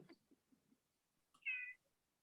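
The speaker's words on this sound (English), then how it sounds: "I heard a cat" A single clear cat meow rises briefly after a few soft, indistinct low thumps and murmurs in an otherwise quiet room.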